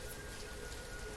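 Steady rain in the city-building video game Banished, a soft continuous patter with no other sounds.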